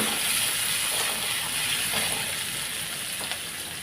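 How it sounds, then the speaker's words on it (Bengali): Potatoes with green chilli fry in hot oil, a steady close hiss and sizzle with a few faint clinks over it. "আলু ভালো করে ভেজে নেব।"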